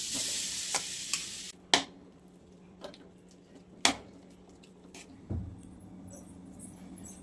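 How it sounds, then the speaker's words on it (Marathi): Khoa (milk solids) warms and is stirred in a pan over low heat for a sweet. A spoon scrapes and clicks against the pan in sparse, separate strokes over a quiet background, with no talk. "खावा घेतलेला आहे ना आपण, ही गरम करून घेऊया."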